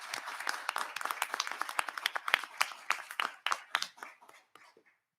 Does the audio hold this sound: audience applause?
yes